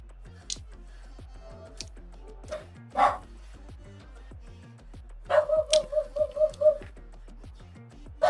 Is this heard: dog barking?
yes